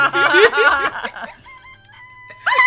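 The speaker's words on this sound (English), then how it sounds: "It's a chicken! It's a chicken." A chicken in the video game Danganronpa: Trigger Happy Havoc gives a burst of loud, close clucking and squawking, a quieter gap with thin tones, then another short squawk at the end.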